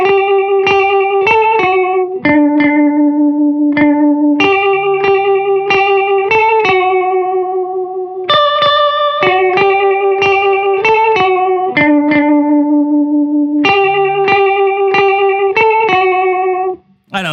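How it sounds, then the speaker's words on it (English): Electric guitar played through a lo-fi effects chain with a square-wave vibrato, sustained notes and short melodic phrases pulsing steadily and loudly for the whole stretch, alone with no voices. "We're going firmly vibrato here, so I have moved to a square wave on there"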